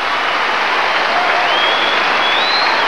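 Crowd applause fills an arena after a gymnast's double layout landing at the 2000 Olympics test event, a steady, dense wash of clapping lasting throughout without breaks.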